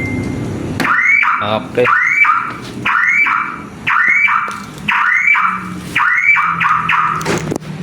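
Aftermarket car alarm with shock sensor on a Toyota Corolla, sounding a loud repeating siren of rising chirping bursts, about six cycles in a steady rhythm, with a brief spoken word near the end.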